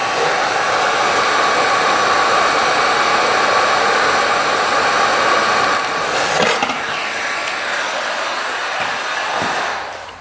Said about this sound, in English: So let's get the heat gun out, better safe than sorry.